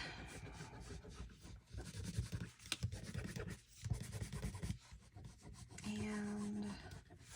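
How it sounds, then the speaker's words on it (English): An eraser rubs out pencil lines along the edges of a handmade folio cover, giving close, soft, repeated scrubbing strokes in uneven bursts, with a brief higher squeak near the end. "And then we'll erase our little pencil lines"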